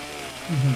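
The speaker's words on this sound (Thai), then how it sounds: "มีเลื่อยอันเดียวครับ บอกเลยโคตรมัน เนี่ย ตัดจนแหลกอะบอกเลยทุกคน" Chainsaw cutting a tree in the Roblox game 99 Nights in the Forest, a short loud buzzing rev that swells in the second half over a low background hum.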